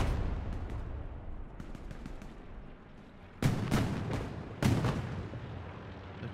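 Tank cannon fire from a Panzer II in Hell Let Loose, a night battle at Sainte-Mère-Église: two sharp, loud blasts about a second apart over a steady background rumble of distant gunfire.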